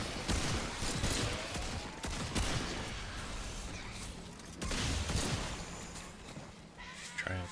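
Rifle fire in the video game Remnant II: several sharp, loud shots ring out at irregular intervals over a dense, noisy game soundscape.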